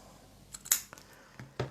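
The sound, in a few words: scissors cutting sheer red ribbon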